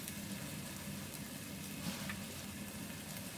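Basa fish fillets grilling in a pan give a steady, soft sizzle and crackle, faint and continuous with no breaks.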